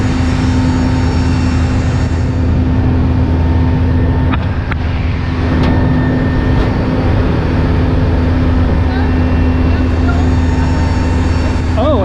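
A parked AWACS airplane at an air and space show at Tinker AFB gives off a loud, steady drone from its engines or generator, with a strong low hum that holds unbroken throughout, close and dominant.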